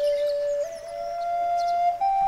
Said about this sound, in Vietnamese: Bỗng nhiên, một tiếng sáo từ đâu vang vọng tới, khiến cho nàng tiên thứ bảy im lặng,